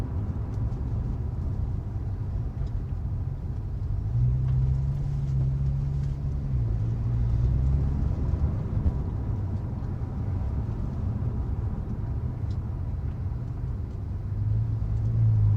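Porsche 911 Turbo S 991.1 coupe with a 3.8 engine crawling behind a wide lorry down a narrow lane, a steady low engine rumble and road drone that holds evenly throughout.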